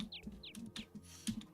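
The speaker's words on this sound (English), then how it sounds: "Fucking birds!" Birds in a jungle area of a video game give quick, repeated high chirps in a steady rhythm, fairly close and clear over a low background hum.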